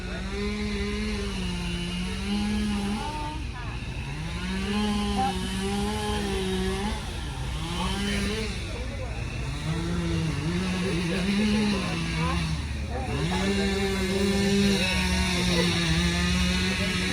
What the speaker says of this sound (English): I guess it's a pulling tractor. Got 3 engines on that bad boy.